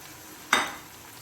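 Tomatoes hit a hot pan for an egg omelette and are stirred, making a single short, bright sizzling burst that fades quickly into a quiet background.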